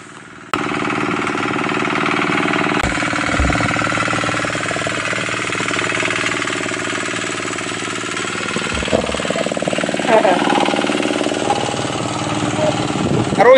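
An irrigation water pump engine near a main canal in rice fields runs continuously, a loud, steady mechanical chugging drone with a rattling edge, with a few brief knocks over it.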